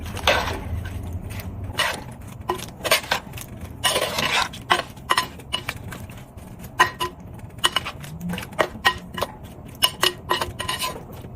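Metal utensil scraping and clinking against a pan while stirring a plantain side dish, with irregular close taps and scrapes and a low simmering hum underneath.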